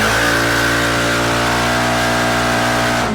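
A motorcycle fitted with an APR exhaust pipe holds at full throttle, a loud sustained steady engine roar close up that cuts off abruptly at the end.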